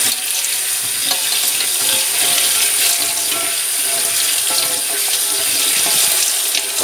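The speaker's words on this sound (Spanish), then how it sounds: "las tenemos ya en el colador y vamos a pasarlas por el grifo" Tap water runs steadily over onion seeds held in a kitchen strainer, a continuous broadband splashing rinse with faint stirring and clinking as the seeds are washed, close and loud with no talk.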